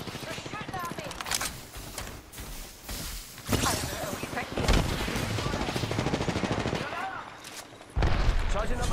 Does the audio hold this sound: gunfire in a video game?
yes